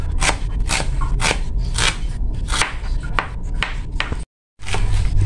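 A knife chops white onions into small pieces on a board, each cut a crisp, fairly close tap in an uneven but steady rhythm, about a dozen strokes with a brief gap near the end.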